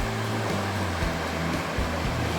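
Water rushing steadily over stepped rock terraces of a cold mountain stream at Khao Kho, a continuous broadband roar with no voices.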